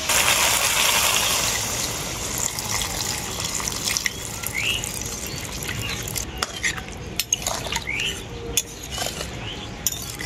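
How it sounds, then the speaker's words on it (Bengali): Water poured into a simmering drumstick and pumpkin curry in a pot, a steady splashing gush at the start that eases off into lighter stirring and the clink of utensils against the pan, with no talking. "এখন এর মধ্যে পরিমাণ মতো জল দিয়ে দেবো।"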